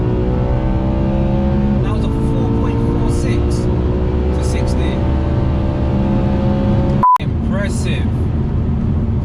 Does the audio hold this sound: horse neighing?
no